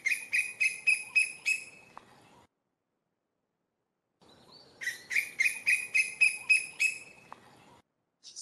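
A bird repeats a rapid series of bright, evenly spaced call notes, falls silent for a couple of seconds, then delivers the same rhythmic sequence again.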